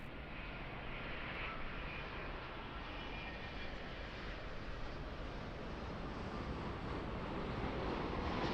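A Boeing 787-9 arriving from Sydney on short final at Auckland Airport, a steady broadband jet roar held at an even level throughout, with some wind rumble on the microphone.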